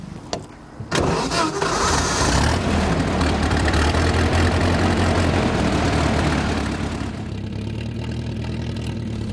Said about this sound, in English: This car is a Hispano-Suiza 15T, but better known as the type Alfonso XIII.